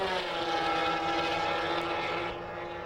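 Yamaha VMAX 4 snowmobile engine runs with a steady, loud droning whine that holds level throughout, easing slightly toward the end.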